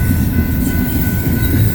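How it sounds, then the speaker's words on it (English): A BNSF intermodal freight train rolls past in Colorado Springs, its loud, steady rumble of wheels and rail noise continuous and close, with no voices over it. "Nobody cares about intermodal trains."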